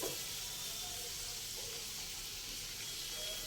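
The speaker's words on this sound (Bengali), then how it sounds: "এই যে প্রথম ধাপের ভাজা চলছে ভালো করে এপিট ওপিট করে ভাজতে হবে" Food sizzling steadily in a hot pan during the first stage of frying, a continuous low hiss with no break and no voices, all the way through.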